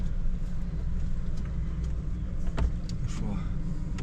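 A third-generation Ford Explorer cruises on the road, a steady low rumble of engine and tyres inside the cabin, with a brief knock and a faint passing whoosh, and a voice speaks over it.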